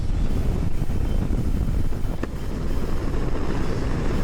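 Steady, heavy wind buffeting a microphone while riding a 2024 Harley-Davidson Road Glide motorcycle, a continuous loud low roar filling the whole stretch with no voices.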